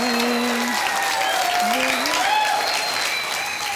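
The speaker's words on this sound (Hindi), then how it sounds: "तालियां" A studio audience at a Dus Ka Dum TV game show claps loudly and steadily from start to finish, a dense wash of applause with a voice singing or speaking over it.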